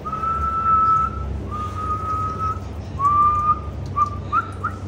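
A person whistles a simple tune in clear, sustained notes with short gaps and a few upward slides, close and fairly quiet over a low background hum.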